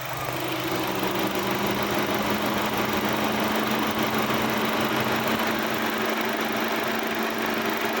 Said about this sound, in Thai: เดี๋ยวเรามาฟังเสียงเครื่องยนต์กันหน่อยนะครับ